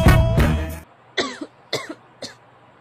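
A burst of harsh coughing, then three shorter coughs spaced apart, close and fairly loud.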